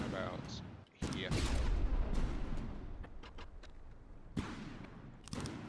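Gunfire from a vehicle's weapons in the naval and vehicle-building game From The Depths, shooting at sensor posts: dense, sustained bursts of shots that run nearly the whole time, with brief gaps and sharp restarts, loud and close.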